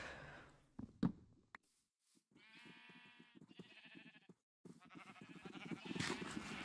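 Sheep in the video game Minecraft bleat several times in a quiet in-game scene, with wavering, nasal calls coming in separate bursts between pauses and a few faint clicks and sighs.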